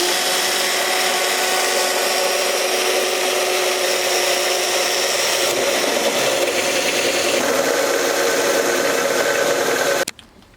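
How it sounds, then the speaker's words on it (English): A power drill bores holes into a carbon fiber hood on a car, a loud continuous grinding whir that shifts pitch partway through and then stops abruptly at the end. "Just to make sure we know where to drill."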